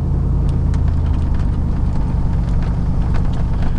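A car fitted with wheel spacers idles and revs in preparation for a burnout, a loud, close, continuous low engine rumble and whir with no talking.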